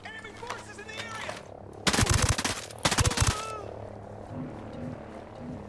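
An MP7 submachine gun in Ghost Recon Breakpoint fires two rapid bursts close and loud in the middle, with a voice talking before and after.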